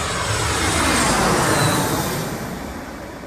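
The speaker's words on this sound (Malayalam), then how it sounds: "ഫ്ലൈറ്റ് റഡാറിൽ എനിക്ക് കിട്ടിയില്ല, എന്നാലും ദേ ഒരെണ്ണം അവിടെ നിന്ന് വരുന്നുണ്ട് കേട്ടോ" An IndiGo airliner approaches the airport, its engine roar a broad, loud rushing wash that swells over a couple of seconds and then begins to ease as it passes.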